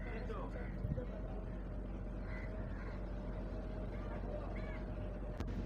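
A passenger boat carrying many people across the Bay of Bengal to Jambudwip gives off a steady, low engine drone with constant water rush, unbroken throughout.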